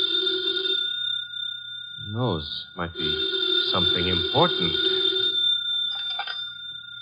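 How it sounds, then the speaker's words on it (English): A telephone bell rings in a radio drama, a bright repeating tone running under a voice as he speaks, then fading at the end. "Should never ignore a phone call."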